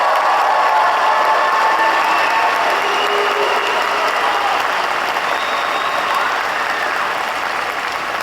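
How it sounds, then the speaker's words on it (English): Sustained applause from a large graduation crowd at Cherry Hill High School East in 2025, honoring scholarship recipients; a steady, dense wash of clapping that holds evenly for about eight seconds with no talking. "Let's take a moment and clap for all of our scholarship recipients"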